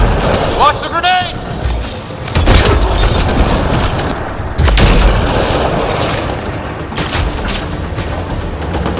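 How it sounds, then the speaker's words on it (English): A grenade goes off with a heavy boom in Mass Effect Andromeda combat, followed by further blasts and gunfire amid a loud, busy battle mix with voices. "Watch the grenade!"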